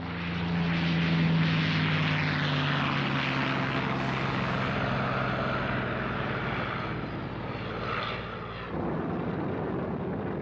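Several B-29 bombers and P-51 fighters droning with a loud, steady propeller-engine roar that swells and fades slightly as the aircraft pass, with no voices.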